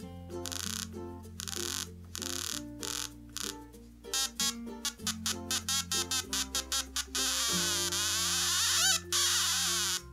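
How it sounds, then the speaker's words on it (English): A homemade audio generator circuit emits a series of buzzing electronic tones. The pitch steps up and down in choppy pulses, then settles into a longer continuous buzz, loud and alone with no voices. "You should get a buzzing noise."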